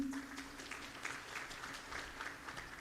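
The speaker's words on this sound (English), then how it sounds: "A good applause for the Mr. President, please." Faint, distant applause from an audience at a university career week open day for high school students, a soft steady patter of clapping at low level throughout.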